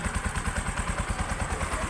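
A Bajaj Rouser 135 motorcycle engine idles close by while warming up after a smoky-exhaust repair, its steady low, rapid pulsing firing beat continuing evenly throughout with a faint mechanical clatter and no talk.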